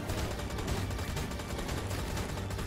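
A hand cannon fires in the video game Monsters & Monocles, producing a dense, sustained burst of rapid gunshots that stays loud and unbroken throughout.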